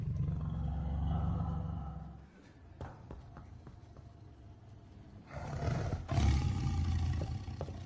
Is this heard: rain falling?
no